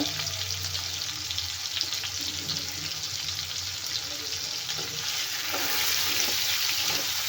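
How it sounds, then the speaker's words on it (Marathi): Tomatoes and tamarind fry in hot oil in a pan, giving a continuous soft sizzle and hiss that swells slightly near the end. "आता टोमॅटो छान नरम होईपर्यंत आपल्याला तेलात भाजून घ्यायचे आहे"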